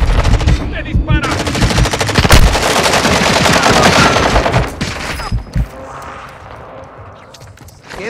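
Automatic gunfire in Call of Duty: Modern Warfare II, loud rapid bursts of sustained machine-gun fire for several seconds, then fading to quieter ambient game sound with a few scattered shots.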